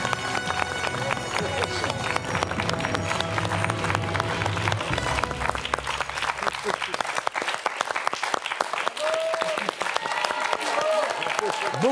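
A studio audience on a French TV quiz show breaks into sustained, dense applause that continues throughout, with a host talking over the clapping.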